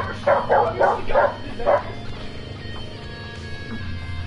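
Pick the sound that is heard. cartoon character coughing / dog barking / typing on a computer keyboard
dog barking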